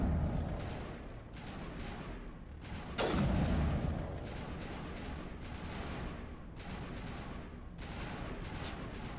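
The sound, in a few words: gunfire and rocket launcher in video game Mass Effect 1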